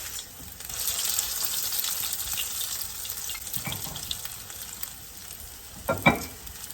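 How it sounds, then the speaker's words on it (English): Grated potato fritters crackle and sizzle in hot oil, a steady hiss with a couple of sharper pops and clinks near the end. "So it's been frying for about 2 minutes on one side."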